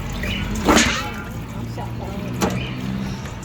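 Pork meat is swished and rinsed in a basin of water in a kitchen, two sharp splashes standing out over soft sloshing, with people talking nearby.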